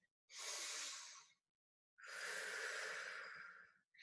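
A slow, deep breath drawn in during a flexibility fitness class, a long airy hiss of inhaling followed by a longer exhale, close and soft with a short pause between.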